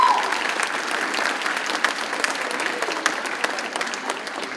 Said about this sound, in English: So please, big round of applause for everyone here tonight.